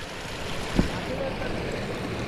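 Steady rushing of spring-fed stream water in a Konkan village, a constant broadband wash with no breaks, close by.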